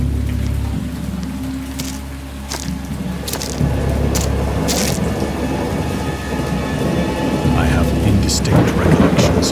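A thunderstorm with steady rain in the video game Dagon. A low rumble of thunder rolls under a constant hiss of rainfall, and sharper cracks and splashes break through now and then.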